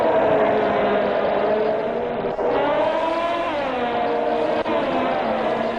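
Race cars at Monaco heading out on the formation lap, a loud continuous engine drone with gliding pitch as the cars roll past, steady throughout with two brief dips.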